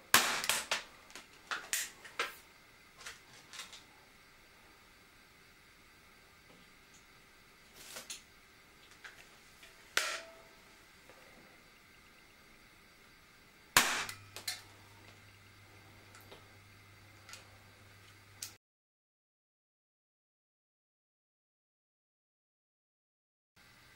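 A Webley Nemesis .177 air pistol fires in slow motion, heard as a series of sharp clicks and snaps spread unevenly over about eighteen seconds, with one stronger crack near the middle. The clip then falls silent.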